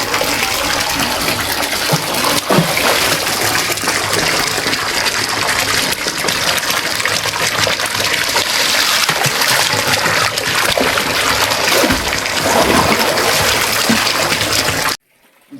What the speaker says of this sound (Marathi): थंड पाणी येत आहे जास्त